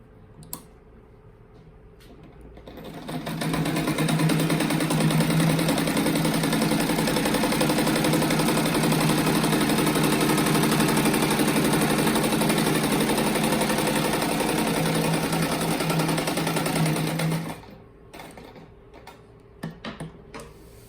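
A sewing machine stitches a soft rug in one continuous run, starting after a few quiet seconds. It keeps a steady, close, rapid clatter for about fourteen seconds, then stops abruptly, followed by a few faint clicks.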